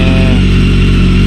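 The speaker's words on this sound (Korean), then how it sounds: "걸면 BMW 엔진들이 특히나 이렇게 조금 매연이 좀 나와요." A BMW K1300R motorcycle engine, cold after sitting for about three days, runs loud and close with a steady low throb and no voices.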